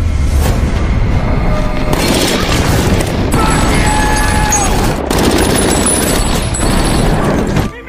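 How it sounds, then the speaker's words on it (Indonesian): Grenades thrown through a window burst during a bank-robbery raid in the thriller film The Town, with loud, dense booms and crashing debris filling the scene almost continuously under a film soundtrack. "beberapa granat melalui jendela hingga membuat indera pendengaran para perampok terganggu"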